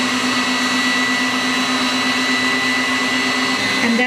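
Electric mixer beating eggs for mamon batter, a steady, loud motor whine with constant whirring that holds unchanged throughout, with no talking.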